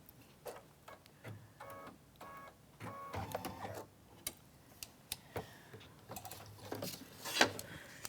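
Sewing machine stitching in the ditch around the blocks of a star-spangled ladder quilt, faint irregular mechanical ticking and clicking with short bursts of whirring, close by and with no talk.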